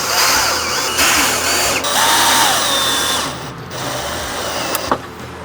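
A power driver whirs in steady bursts as it starts screws into a Harley-Davidson outer fairing headlight bracket, close and loud, with brief pauses and a small clack near the end.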